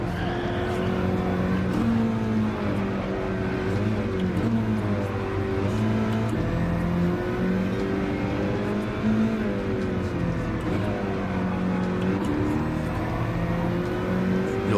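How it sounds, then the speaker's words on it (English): A front-engine, front-wheel-drive race car engine roars steadily and climbs through gears on a first lap, pitch rising and dropping with each upshift, loud and close with no talking. "You'll hear me upshifting rather than revving it out because I'll lose traction."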